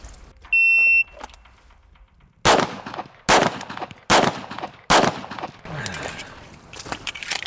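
An electronic shot-timer beep, then four loud, sharp pistol shots from a MEUSOC 1911 in quick, evenly spaced succession at close range, with echoey tails after each.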